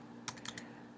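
Four quick keystrokes on a computer keyboard, soft and close in a quiet room, clustered within half a second.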